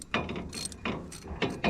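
A ratchet tightens a set screw on a 1949 Chevy truck, close and crisp, with several short bursts of rapid clicking separated by brief pauses.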